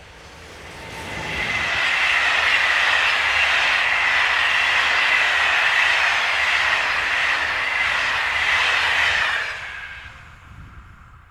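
Locomotive 26040 hauls the 12:04 train from Paris to Bourges past the listener. It builds from quiet into a loud sustained rushing roar of wheels and engine for several seconds, then fades away.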